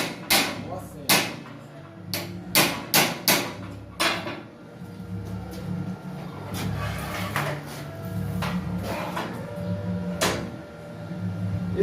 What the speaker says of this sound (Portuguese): eu dou uma amassadinha da parte de baixo, que é onde eu vou soldar